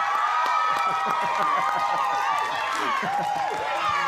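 An audience claps and cheers steadily for a vice-governor candidate at an Indonesian election debate, loud and continuous throughout, with crowd noise and voices mixed in.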